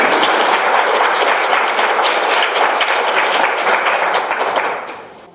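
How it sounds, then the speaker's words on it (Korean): A large church congregation breaks into dense, loud applause, a steady roar of many hands that holds strong and then fades away at the end. "박수가 쏟아져 나와요."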